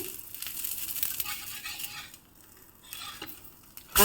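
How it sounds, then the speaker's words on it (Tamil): Oil trickles around the edges of a ragi vegetable uthappam on a hot pan and sizzles in a short, crackling hiss, with a few utensil scrapes. The sound fades midway and ends with a sharp knock. "இப்போ நம்ம கொஞ்சம் ஓரத்தில் எண்ணெய் கொஞ்சம் விட்டுடுவோம்"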